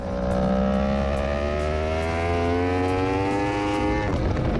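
A racing motorcycle, ridden hard on a track and heard from onboard, accelerates continuously with its engine note climbing steadily through the gears, loud and close, with no talk over it.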